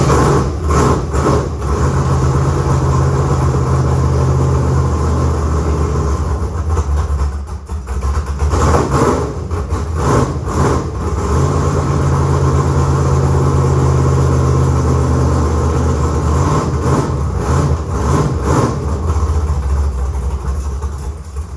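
A roadster drag car engine idles steadily and loudly close by, with only ignition and fuel pump running. A deep, continuous rumble carries some uneven pulses and rattles throughout.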